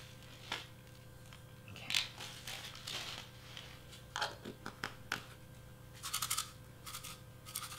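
Small shaker fillings for a cardstock 3D letter being stirred and mixed, giving soft, irregular scratchy rustles and brief gritty swishes close by over a steady low hum, with no talking.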